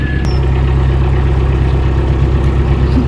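A narrowboat engine runs at a steady, low, throbbing idle, close and loud, with an even rumble and no talk over it.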